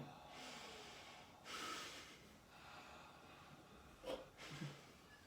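A person breathes deeply during a full-body arch and structural realignment session, with slow airy inhales and exhales in waves and a couple of louder gasping breaths toward the end, close and fairly soft.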